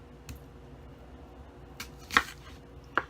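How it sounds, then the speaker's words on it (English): A knife cuts an onion into semi-moons on a board, giving a few sharp, separate chops against a quiet room, with the clearest strike near the two-second mark and another just before the end. "you're just gonna cut it straight down the middle, like over here, so that it makes semi-moons"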